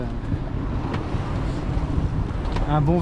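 Strong wind gusting past a sailboat at sea near Oléron and La Rochelle, a loud rushing buffet against the microphone, with a voice briefly heard over it at the end.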